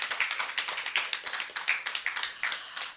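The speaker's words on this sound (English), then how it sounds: "A huge round of applause to everyone who has made this possible today." A small audience at an IIT Madras chair launch ceremony gives a short round of applause, with distinct, fairly close individual claps in an uneven rhythm, tapering off at the end.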